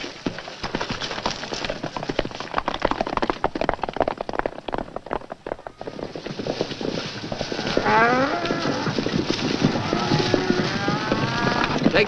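A cattle herd lows on a frontier range, several drawn-out moos rising and overlapping near the end over a steady outdoor rumble, with earlier busy background noise and faint hoof clatter.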